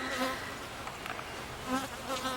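Honeybees hum steadily at an open apiary hive during an inspection, a close, continuous buzzing with individual bees rising and fading as they fly past.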